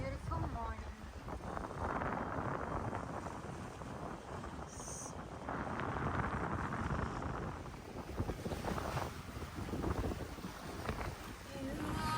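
Sailboat under way at sea on a windy morning, with steady broadband wind buffeting and water rush filling the whole stretch, close and fairly loud, with no speech over it.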